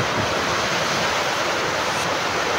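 Water gushes steadily out through a leak in a structure awaiting waterproofing, a loud, continuous broadband rush that stays unbroken throughout, with no voices.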